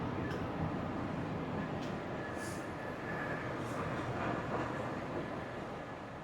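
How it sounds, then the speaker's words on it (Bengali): A Sri Lankan train on the Northern Line rumbles steadily, a continuous broadband roar of wheels and carriages heard close from on board, with no talk. "এই হচ্ছে ট্রেন"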